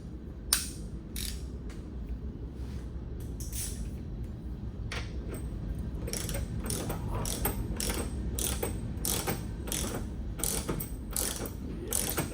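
A hand ratchet tightens the spacer on a Jeep Compass 2-inch lift kit, sending out bursts of rapid close clicks that grow denser toward the end, over a low garage hum.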